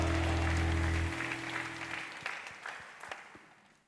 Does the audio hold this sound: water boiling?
no